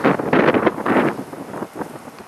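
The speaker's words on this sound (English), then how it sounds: "We are currently experiencing a winter storm" Gusting wind during a winter snowstorm in Omaha, Nebraska, buffets the microphone with loud, broadband rumbling surges that ease off toward the end, with no talking.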